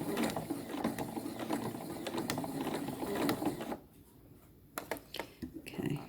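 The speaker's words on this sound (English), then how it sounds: "Needle down, press her foot up, pivot, press her foot down, and keep sewing." A sewing machine stitches a drawstring bag, running in a fast whirring burst, then stopping for a few clicks and short taps as the fabric is pivoted.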